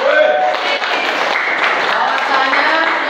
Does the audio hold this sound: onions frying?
no